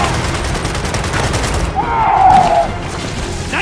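Gunfire in the video game Gears of War 4, a dense volley of rapid shots and booms under a shouted voice, with a brief whooshing effect midway.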